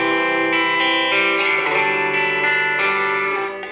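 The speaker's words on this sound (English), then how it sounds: "let's do some crunchy distortion" Crunchy distorted electric guitar ringing out sustained chords, played with a Jazz III pick, loud and saturated with a touch of echo, fading slightly at the end.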